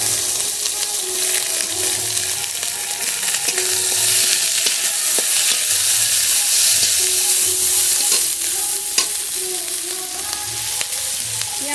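Chopped onions fry steadily in mustard oil tempered with nigella seeds, a dense continuous sizzle with occasional stirring clatter, loud and close with no talk.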